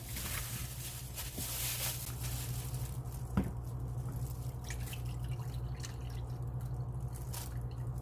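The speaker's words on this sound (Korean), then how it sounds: "그냥 요 절인 국물만 예, 좀 따라내 주세요" Brine from salted cucumbers for kimchi is poured off, a faint trickle and drip over a low steady hum, with one small knock partway through.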